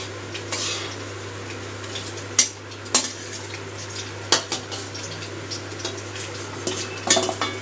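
Garlic and green chili frying gently in a pan over low heat, a faint sizzle under a steady hum, punctuated by sharp clinks and scrapes of a utensil against the pan.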